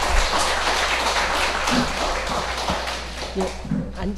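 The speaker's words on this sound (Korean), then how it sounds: "그러면 우리 김성경 교수님 큰 박수로 환영해 주시기 바라겠습니다" A church lecture audience claps to welcome a visiting professor: a broad, continuous patter of many hands, with faint voices and some shuffling mixed in.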